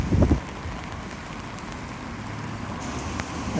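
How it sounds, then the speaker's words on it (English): Rain falling on a seaside promenade, a steady close hiss of drops with a brief louder patter at the start and end. "Yeah, raining now, if you can see it or not."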